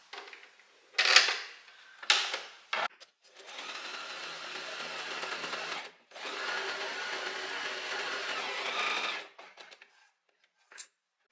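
A domestic sewing machine runs a long straight stitch across dress fabric, with short stop-start bursts at first, then two sustained runs of several seconds each, close and moderately quiet.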